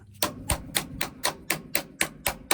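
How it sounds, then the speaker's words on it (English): A hammer pounds down a farm fence post in a run of about nine sharp, evenly spaced blows, each ringing briefly before the next, loud and close with no talk. "We better get a hammer"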